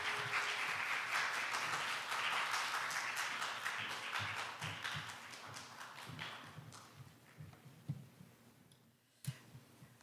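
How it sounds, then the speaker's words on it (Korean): Audience applause at a winter church choir praise revival, a dense, steady wash of clapping that gradually thins and fades, leaving a few scattered claps and thuds near the end. "우리 김영애 교수님을 우리 박수로 환영해주시기를 부탁드립니다"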